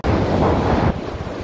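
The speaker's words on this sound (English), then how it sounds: "We got waves crashing on shore." Rough storm surf from Tropical Storm Cristobal crashes onto the shore of Dauphin Island, Alabama, a steady roar of breaking waves mixed with heavy wind buffeting the microphone.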